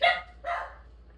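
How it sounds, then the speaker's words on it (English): Two quick barks from a dog indoors, one right after the other, moderately loud and followed by quiet. "that's my dog"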